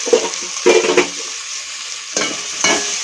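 Tomato and curry leaves frying in ghee are stirred in a pan, giving a few quick scraping strokes over a continuous crackling sizzle, close and clear.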